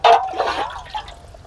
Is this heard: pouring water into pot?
yes